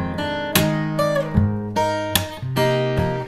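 An acoustic guitar plays the main theme with percussive strumming: close, ringing chords are punctuated by sharp slaps in a steady rhythm, with no voice.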